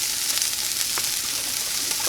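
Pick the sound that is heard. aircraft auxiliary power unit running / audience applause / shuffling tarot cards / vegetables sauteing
vegetables sauteing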